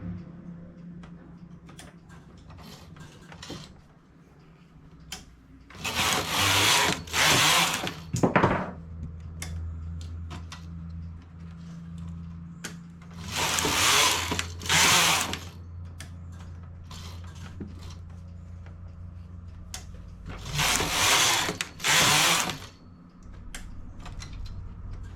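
A knitting machine set with 36 stitches works a child's overalls, with three loud swishing carriage passes spaced several seconds apart over a low mechanical hum and faint ticking between them.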